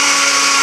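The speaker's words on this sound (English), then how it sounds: "I would go ahead and blend it in with your oats now, since they're both dry ingredients" A blender whirs at high speed, grinding dry oats and sugar into flour, a loud steady motor roar with no talk over it.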